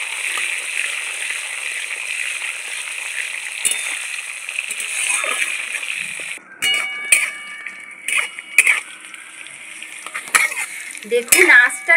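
Washed leaves hitting hot oil on a low flame, with a steady sizzle and frying hiss running throughout, then sharper crackles, stirring scrapes and utensil clinks toward the end.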